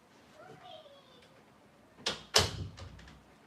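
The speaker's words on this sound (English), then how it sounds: "Let me close the door because my kid's being a little bit loud in just a minute." A door closes in a home, first with a soft click and then a firm, close thud, after faint background voices and a brief child-like sound.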